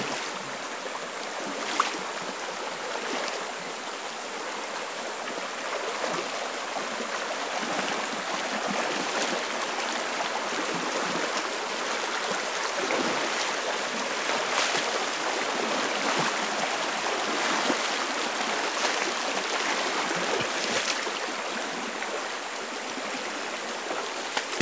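A mountain stream flowing over rocks, a steady close rushing and gurgling of water that continues without break.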